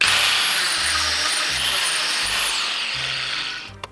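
A power tool grinds and cuts through a metal minibike frame pipe with a steady, loud, high-pitched whine, close up and without talk, tapering off at the end.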